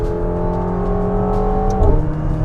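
McLaren 750S engine in a loud, steady high-rev drone from inside the car, its tone dropping sharply at a short-shifted gear change near the end before pulling again.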